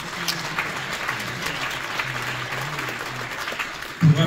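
An audience applauds steadily throughout at a film festival closing ceremony, a dense patter of many hands, with a louder nearby clap at the very end.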